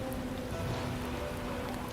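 Heavy rain falls in the woods as a dense, steady hiss with a faint low hum under it. It is continuous and even, with no voices.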